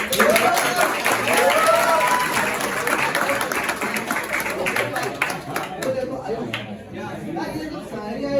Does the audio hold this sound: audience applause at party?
yes